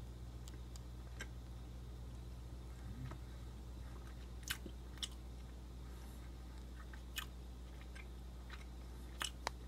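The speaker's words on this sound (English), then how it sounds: "So let's go ahead and take a bite here." Quiet bites and soft chewing on a ProSupps MyBar Pro Death By Chocolate protein bar, scattered small crunches and clicks over a low steady background hum, close and faint, with no talk.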